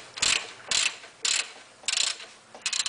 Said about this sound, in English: we're going to get a little bigger ratchet, put a little more leverage on it